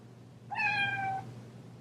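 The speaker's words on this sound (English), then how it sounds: "I wanted to introduce you guys to my adorable little kitty, Nyx," A pet cat named Nyx gives a single clear, drawn-out meow, close and fairly soft, against a quiet indoor background.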